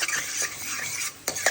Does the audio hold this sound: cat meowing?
no